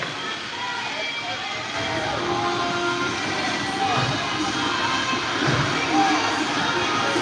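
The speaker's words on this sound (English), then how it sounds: "Everybody claps in the house" Spectators clap and cheer in the stands at a youth hockey game, a dense, continuous crowd roar with scattered clapping, mixed with voices and rink noise.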